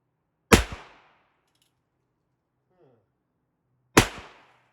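Two sharp gunshots from a 51-year-old 1873 Colt revolver fired outdoors at a can, spaced about three seconds apart, each a loud crack with a short decaying tail, with near silence between them.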